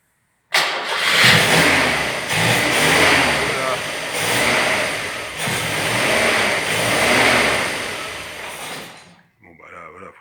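A fully restored Peugeot 404 Cabriolet engine cranks and catches, then runs with steady, uneven pulsing at close range for several seconds before cutting off, followed by a brief voice.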